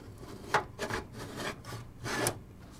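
A 3.5-inch drive sled slides into a PC drive cage during a desktop build, giving a few short scraping, rubbing strokes with brief louder bursts, close and alone with no talk.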